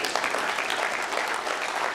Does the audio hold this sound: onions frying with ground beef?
no